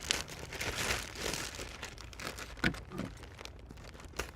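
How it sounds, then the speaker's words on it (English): Scissors cut into the sealed plastic wrapping around a Poolpure PLF120A pool filter cartridge, giving close, loud crinkling and crackling bursts of handled plastic with a few sharper snips and crunches. "this is all sealed up here. So in order to open this, luckily I had scissors out here already."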